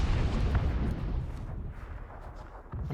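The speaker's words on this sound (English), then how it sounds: "I'm gonna nade the smoke." A grenade thrown at smoke in a competitive CSGO league match explodes with a loud, close, booming burst that rumbles and fades over a few seconds, with no talking.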